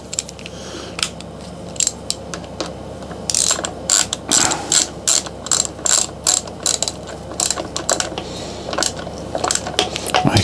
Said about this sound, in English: And then we'll torque it up as well.